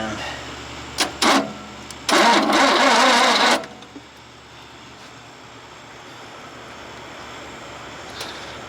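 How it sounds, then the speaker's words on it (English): A Rambler car engine cranking over on the starter while someone tries to start it, two short bursts followed by a longer grinding crank of about a second and a half, close and loud, then quiet. "Hopefully what we're going to see is the engine actually turn over and not just that little bump"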